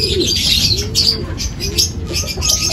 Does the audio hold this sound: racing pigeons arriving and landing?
yes